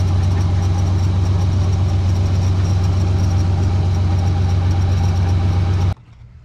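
A 1986 Nissan 300ZX engine runs at a steady idle, a loud, constant low drone held close up, which cuts off abruptly near the end.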